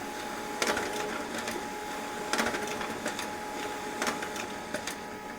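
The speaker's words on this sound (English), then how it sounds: "already it's printing the first page" An HP LaserJet Pro 3001dw laser printer running a print job, with a steady mechanical whir broken by sharp, repeated clacks and rattles about every second and a half as pages feed through.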